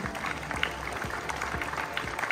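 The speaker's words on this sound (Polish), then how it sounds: "Wielkie brawa dla sędziów" Applause for the referees at an Easter youth tournament in Trzebnica, a thin, fairly faint patter of clapping from a modest crowd in a hall, with a few low thumps underneath.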